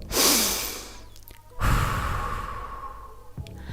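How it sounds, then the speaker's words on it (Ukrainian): A deep inhale through the nose is followed by a long, steady blow of air out, then another short intake of breath. The breathing is close and clear, with no talking. "Набираємо носиком повітря і дмухаємо"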